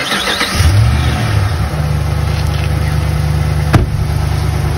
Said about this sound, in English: Can you start this thing up?